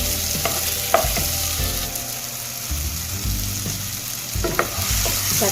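Tomatoes sauté in a pan for a Kannur-style coconut fish curry, giving a continuous close sizzle broken by intermittent scraping stirring strokes from a spoon against the pan.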